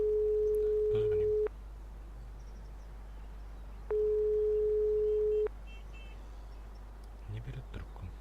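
A phone call rings unanswered in the video game Broken Sword 5, two steady electronic ring tones each lasting about a second and a half, with a pause between, over a low hum and faint voices.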